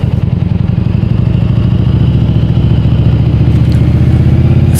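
A Japanese motorcycle engine runs loud and close, a steady rapid throbbing idle with a mechanical clatter over the low rumble, no voices.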